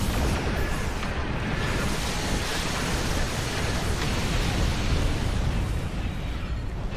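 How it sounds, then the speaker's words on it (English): Star Trek Online space combat explosions rumble in a dense, continuous roar of overlapping blasts, loud and low-heavy throughout. "Explosions are everywhere."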